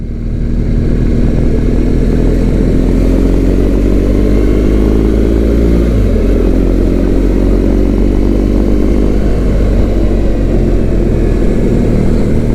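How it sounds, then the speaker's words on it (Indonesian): Loud, dense engine drone from many motorbikes in traffic on the flyover at Merak port, Indonesia, a continuous roar with shifting pitches as bikes pass close by. "Motor semua ya."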